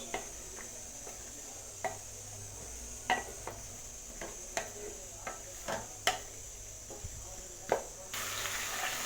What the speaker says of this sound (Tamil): சேர்த்து நல்லா வதக்கிக்கங்க லேசாக.